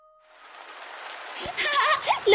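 Rain falls in a broad, steady hiss that swells from near silence to a louder wash. A few brighter sounds rise near the end.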